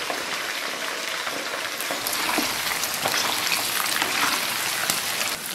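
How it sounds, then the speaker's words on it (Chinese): Pork belly deep-frying in hot oil in a wok makes a dense, steady crackling sizzle that stays loud and close throughout and thickens slightly partway through. "把五花肉放锅里边炸一下"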